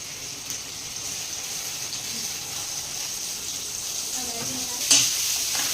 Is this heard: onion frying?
yes